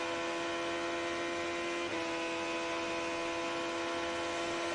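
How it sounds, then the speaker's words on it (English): Steady high-pitched whine of a 2005 IndyCar engine heard from an onboard camera, droning at constant revs with a slight shift partway through, loud and continuous with no voices. "Listen to the engine now."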